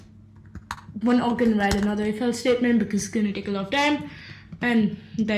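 Python code typed on a computer keyboard in a steady run of soft key clicks, heard beneath continuous close speech from a man explaining as he types.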